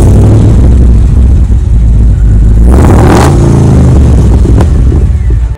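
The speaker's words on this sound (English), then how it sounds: "it's a 2009 Holden Caprice with a ridiculous 6-litre V8 that is loud enough to scare" A 2009 Holden Caprice with a 6-litre V8 revs hard, its loud engine roar swelling sharply midway and holding steady, with no talk over it.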